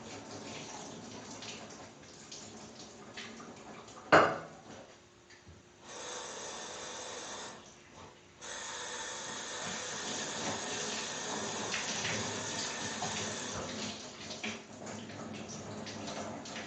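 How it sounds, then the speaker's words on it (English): Chickpeas being drained under running water in a home kitchen, a steady faucet rush with a sharp clatter early on, then a pause, a brief break and the water resuming, continuous and close with no talk. "I'm going to drain these right quick."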